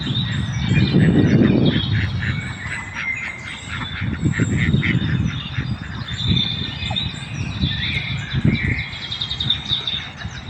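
A loud, busy chorus of Chinese geese honking nearby at a park pond in Doha, Qatar, overlapping calls continuing throughout with some duck-like quacks mixed in.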